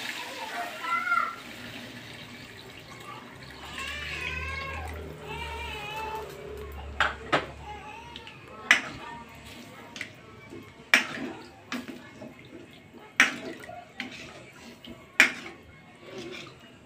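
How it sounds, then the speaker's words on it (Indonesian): Water poured into a cooking pot for chicken-feet soto with coconut-milk broth: a steady splashing flow, then scattered sharp taps and clinks of utensils, with a voice talking briefly over it. "Kasih air secukupnya."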